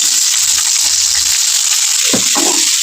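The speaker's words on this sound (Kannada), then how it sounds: "ನೋಡಿ ಇದನ್ನು ಈ ರೀತಿ ಫ್ರೈ ಮಾಡ್ಕೊಬೇಕು" A potato snack fries in hot oil with a loud, continuous hiss and crackle, close by, with a couple of soft clunks from the pan near the end.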